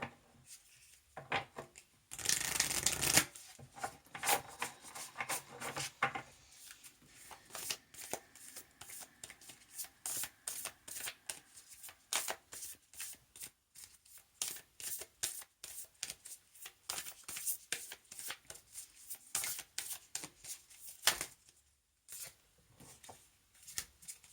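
Oracle cards are shuffled up close in repeated soft, papery riffles and taps, with one louder burst near the start and quiet gaps between.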